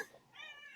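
A cat gives one short, faint meow that rises and then falls, with a quick chirp at the start, heard alone in a quiet room.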